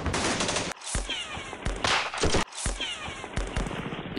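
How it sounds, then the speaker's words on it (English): Dense gunfire fills a WWII strategy game set in the Philippines: loud, continuous rattling volleys with sharp repeated cracks, briefly cutting out and resuming. "some gunfire"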